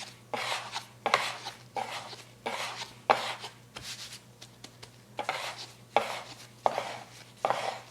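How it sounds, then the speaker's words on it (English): Sourdough bread dough being shaped by hand on a floured surface, with a steady series of soft slapping, scraping thuds roughly every half second to second, close and fairly loud, with no talking. "let's just get that flour under there and start shaping it"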